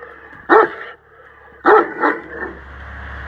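A dog standing in the middle of a village barks loudly and close: two sharp barks, then a third, softer one, with quiet outdoor background between them.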